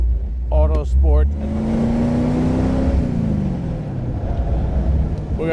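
A 1952 Allard J2X with a Hemi V8 roars past on the road, its deep engine note building then falling away as it recedes, with brief voices at the start.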